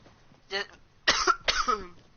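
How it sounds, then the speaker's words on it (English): A person coughs close to the microphone, one short cough followed by two harsher, longer throaty coughs in quick succession. "I keep coughing."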